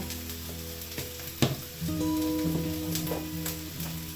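A spice masala fries in a pan with a splash of water added, giving a close, steady sizzle with a sudden louder burst and some stirring clatter.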